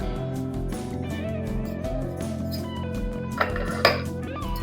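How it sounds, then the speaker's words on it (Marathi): A metal lid comes off a pot of rice cooking on the stove, giving a couple of sharp clinks near the end over a steady kitchen hum. "झाकण काढते."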